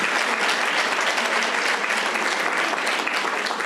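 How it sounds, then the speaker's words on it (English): An audience at a keynote address applauds, a loud, sustained wash of many hands clapping evenly throughout with no talking on top. "Let's give them a round of applause."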